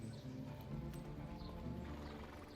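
Hooves clop softly in the video game Evil West as a horse moves at a walk. The sound is faint and brief, under a droning low background with tonal music, and no one speaks.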